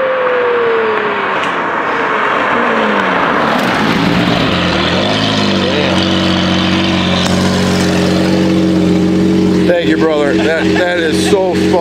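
A Lamborghini Murcielago LP640 roars loudly with a sustained, rising and falling engine drone and shifting revs, ending in a rough, crackling burst of wheelspin. People talk in the background throughout.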